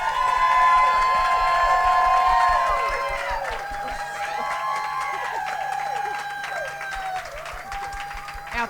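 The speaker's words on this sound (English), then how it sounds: "all you have to do in all sincerity is just ready to applaud for contestant number 1" A studio audience claps and cheers for a contestant on a competition show, with bright voices and whoops over a crowd wash that is loudest at first, then settles into softer sustained applause.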